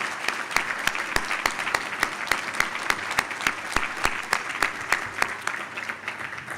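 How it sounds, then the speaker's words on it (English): Applause for Brandon at a bar association presidential inaugural address, a modest crowd clapping in a steady, sparse rhythm with distinct individual claps, no talking over it. "Let's give Brandon a round of applause."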